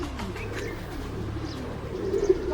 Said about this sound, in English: You must be listening to the chirping of the birds.